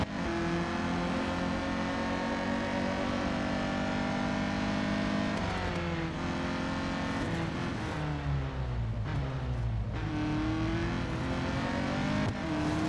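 A race car engine in the mobile racing game Real Racing 3 drones loudly and steadily through a lap, its pitch sliding down and back up through gear changes and braking, with no talk.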